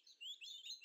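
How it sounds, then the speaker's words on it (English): Constant bird chirps and tweets in the Venice level of the Tomb Raider 2 video game, a busy run of high, overlapping calls that is faint but steady and has no other sound over it. "Indeed, these birds never shut up."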